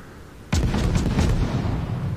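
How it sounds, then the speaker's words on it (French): A naval battleship main battery fires in World of Warships, one sudden heavy boom that rolls and rumbles on loudly for about two seconds, with no talking. "on tire en espérant déclencher un ou deux incendies"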